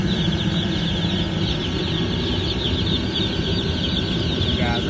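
White chickens clucking on a farm, many birds clucking and chattering together at a fair distance, layered over a constant loud machine hum from heaters.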